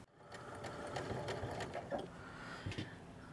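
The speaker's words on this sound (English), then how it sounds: "we're going to go ahead and sew that next part of the French seam" A sewing machine stitches the second pass of a French seam along the side of an A-line skirt, a steady close whirring run with a few brief pauses and bursts, with no talk over it.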